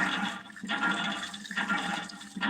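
Tap water runs steadily from an outdoor faucet while feet are washed at a Hindu pilgrimage site, a continuous splashing gush with slight surges and no talking.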